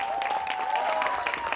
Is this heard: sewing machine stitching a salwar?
no